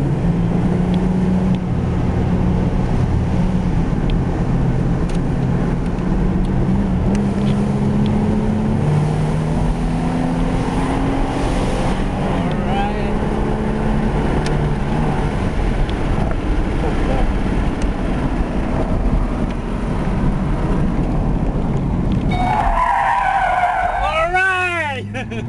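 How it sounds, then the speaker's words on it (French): A powerful car with an automatic gearbox drones steadily with tire-skid noise for most of the stretch, then its engine surges into a sharp, rising rev near the end as it accelerates hard, loud and close. "Oh là, le coup d'accélérateur."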